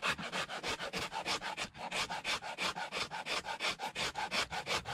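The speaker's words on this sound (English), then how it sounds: "I'm just using my rasp to tidy up any of the" A rasp files a wooden axe handle in quick, even back-and-forth strokes, roughly twenty rhythmic scrapes close to the microphone, with no talking.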